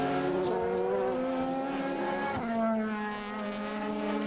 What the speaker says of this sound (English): Roar of the V8 engines round this Kentish Speed Bowl